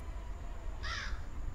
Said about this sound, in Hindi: सो गाइज, ये कौवा उधर चला गया है।